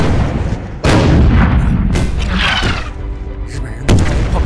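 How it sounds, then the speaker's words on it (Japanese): Artillery bombardment in a war film, with a few heavy booming blasts spaced seconds apart and rumbling debris and echo between them. "信号弾を発射し砲撃を実行してくれ"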